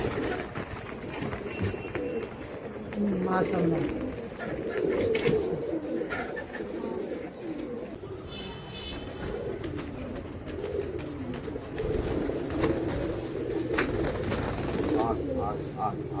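Pigeons coo softly in a rooftop loft, low throaty calls repeating on and off beside someone talking.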